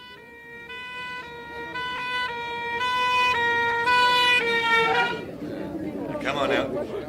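An ambulance siren sounds in a steady repeating two-tone wail, loud and close, drawing nearer over several seconds before breaking off into a burst of mixed noise and voices.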